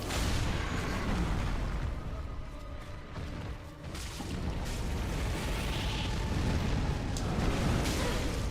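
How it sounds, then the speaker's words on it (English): Boss fireball blasts in Dark Souls 3, a dense roaring rumble of fiery explosions and bursts that swells and stays loud throughout. "It feels like there's always some damage that'll get you from that fireball"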